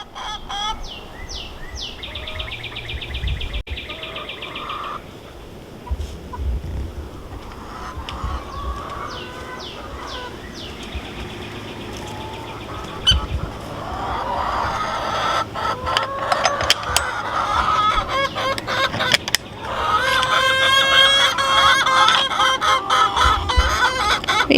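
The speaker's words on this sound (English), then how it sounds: "some very loud chickens" Loud backyard chickens cluck and squawk near a vegetable garden, scattered calls at first that build into a busy, overlapping chorus with a rooster crowing toward the end.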